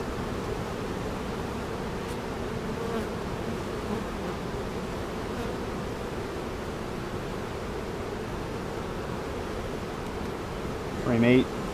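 Honeybees from a strong hive hum as a steady, dense drone throughout a hive inspection, moderately loud and close, with a brief louder rustle near the end.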